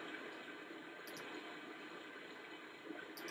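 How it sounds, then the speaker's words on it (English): Steady rushing water of a waterfall in the video game Bin Weevils, a continuous broadband wash with brief faint chimes, moderately loud and heard alone. "There's another waterfall."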